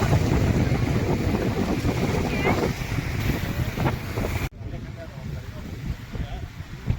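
Evening waves roar at the overflowing Tungabhadra dam in Hosapete, a loud, steady wash of rushing water with heavy wind buffeting the microphone, which dips abruptly partway through before the roar continues.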